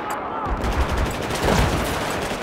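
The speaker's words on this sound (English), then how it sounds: "They're all shooting at the stupid office building." Battlefield 4 gunfire as players shoot at an office building, a dense, continuous wash of rapid shots and distant bursts filling the whole stretch at steady loudness.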